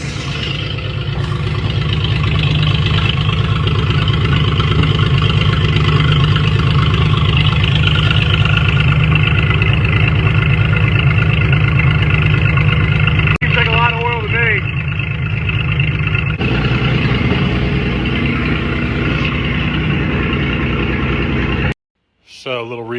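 A Dodge Power Wagon truck engine runs steadily at idle for about twenty seconds, loud and close, with a brief shift partway through before cutting off near the end.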